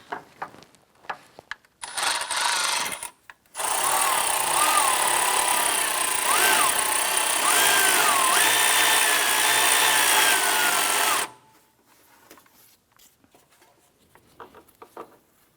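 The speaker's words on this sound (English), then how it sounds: "I'm going to go ahead and tighten the horizontal bolt" A power tool tightening the timing belt adjuster bolt on a 2001-2005 Honda Civic, two close whirring bursts, a short one then a long one of about eight seconds, with scattered clicks and handling noise around them.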